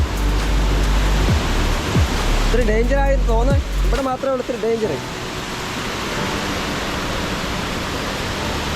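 Forest stream water rushing down through dense woodland, a steady broadband roar throughout, with a voice talking briefly over it midway.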